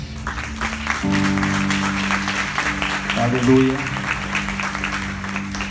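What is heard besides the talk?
congregation applause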